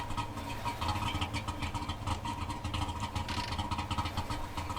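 A car engine idling in the video game The Long Drive, a low, steady rhythmic chug with a fluttering mechanical texture, fairly quiet and continuous without talking.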